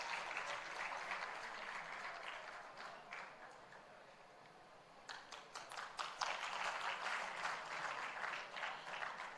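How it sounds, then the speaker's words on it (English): Applause at an entrepreneurship conference in Chandigarh for a startup founder: a steady crowd clapping dips to a softer patch, then picks up again with sharp, distinct nearby claps and builds back to a full round. "let's have a loud round of applause for Ashneer Grover, founder, Third Unicorn."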